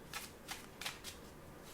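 Tarot cards being shuffled close by, four or five quick soft riffling bursts in a quiet room, faint overall and with no talk.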